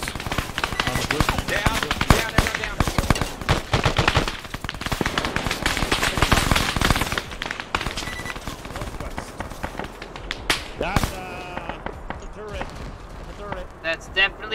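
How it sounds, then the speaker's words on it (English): Rapid, dense bursts of turret gunfire in the Halo video game hammer away almost continuously and loudly, thinning out toward the end, with voices talking over the shooting. "That's definitely a fucking turret"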